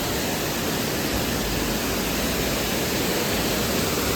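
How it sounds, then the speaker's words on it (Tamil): Steady, dense rushing of a waterfall in Meghalaya, India, a continuous broadband roar, constant in level with no voices. "தண்ணி சவுண்டு பாருங்கள் எவ்வளோ வருதா"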